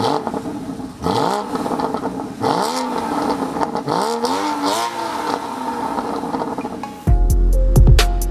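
A Porsche Cayman GT4 pulls away, its engine revving up through several rising sweeps and gear changes, loud and close from inside the car, then a sharp mechanical clatter at the end.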